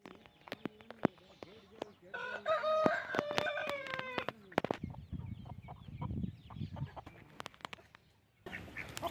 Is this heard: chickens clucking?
yes